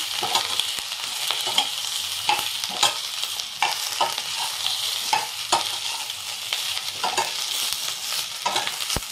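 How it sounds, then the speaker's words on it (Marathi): Chillies roast in a pan over low gas while being stirred, giving a soft continuous sizzle broken by frequent scraping strokes of a spoon, close and fairly quiet with no talk. "आता ही मिरची आपल्याला स्लो गॅसवरती भाजून घ्यायची आहे चांगली हलवून"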